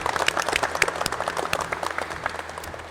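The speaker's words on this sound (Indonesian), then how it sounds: "Tepuk tangan untuk semuanya." Applause from a group of vocational automotive students in a classroom, a brisk patter of many hands clapping steadily for about three seconds at moderate volume.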